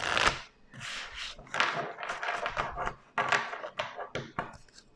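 Tarot deck being split and shuffled, a run of crisp riffling card bursts and dry taps at close range, alone with no voice.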